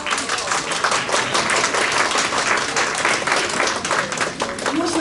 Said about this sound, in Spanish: Vamos a pedir ahora sí un fuerte aplauso a todos los equipos